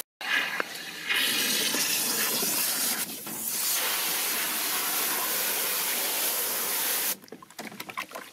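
Fresh water gushes from a tap into a bowl to rinse salted deer meat, a loud, steady rushing splash that runs for several seconds, shifts tone midway as it fills, then cuts off abruptly to a few drips and clinks.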